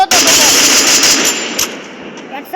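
Rapid automatic gunfire in the mobile battle royale game Free Fire, a loud close burst of dense repeated shots that tapers into softer trailing fire and a few isolated pops.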